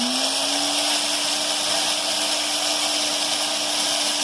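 Rotary carving bits grind agate stone in a loud, steady, continuous whine with a constant high tone that holds unbroken throughout, with no voices.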